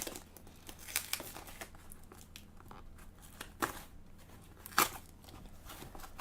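A taped mailer package holding vinyl records is torn and wrestled open, producing close, faint crinkling and crumpling with a few sharper tearing rips at irregular moments.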